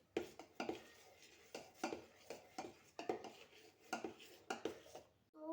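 A spoon mixes chocolate cake batter after Eno is added, clinking and scraping against the bowl in a steady rhythm of close, bright knocks, with no speech.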